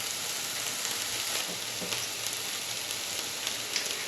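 Garlic and vegetables frying in a pan for mini frittatas give a steady, close sizzle with faint crackles and the odd stir, continuous and alone with no voices.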